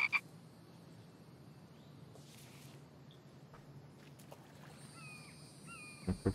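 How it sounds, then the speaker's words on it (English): Frog croaking in the survival video game The Infected: a few short croaks at the start and end over quiet ambient background, with faint chirping calls in between and no talk. "What the damn frog?"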